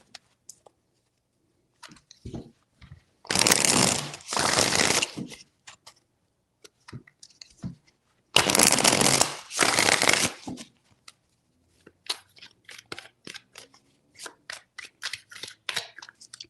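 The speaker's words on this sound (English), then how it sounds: "Three shuffles." Tarot cards are shuffled by hand in three bursts, two long riffling runs of several seconds each followed by lighter scattered taps and card handling, close and clear with no talk.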